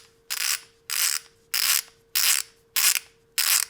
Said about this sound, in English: You're going to hear that click sound when you reach the preset torque